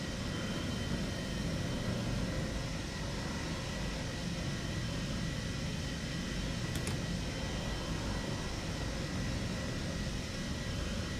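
Boeing 707 jet engines running on the stand at an airfield, a steady broadband roar and hiss held at constant level throughout, fairly distant and unbroken.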